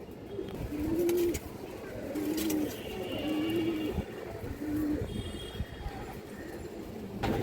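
Old-breed pigeon cooing in a regular series of four or five low rolling calls spaced about a second apart, close, over a faint constant background hum.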